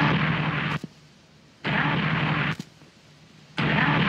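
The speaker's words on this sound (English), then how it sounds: "That's a gunshot from beyond the grave." Hiss of an EVP radio recording broken by sharp, brief cracks like a gunshot, with bursts of static alternating with near-silent gaps in a regular on-off pattern.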